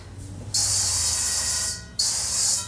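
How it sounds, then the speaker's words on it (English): Two hissing bursts from an avocado oil cooking spray, the first long and steady, the second shorter, close and loud. "I'm just using my avocado spray."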